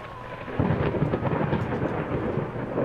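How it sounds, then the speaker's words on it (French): Thunderstorm in the horror game Layers of Fear, a loud low rumble of thunder rolling in after a quieter moment, with rain hissing steadily underneath. "Cet orage me stresse."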